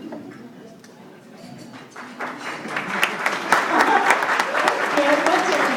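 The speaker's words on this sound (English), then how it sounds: "Yeah, let's take applause." Applause at a real estate executive panel dinner, starting sparse and swelling into a dense, sustained clatter of many hands, with talk mixed in.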